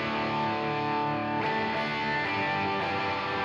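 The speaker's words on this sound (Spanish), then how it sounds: "Ahora voy a poner la distorsión," An electric guitar runs through a distortion pedal after an amp-simulator stage, in a budget worship-band rig, giving a sustained, heavily clipped chord that is restruck twice, loud and steady with no talking.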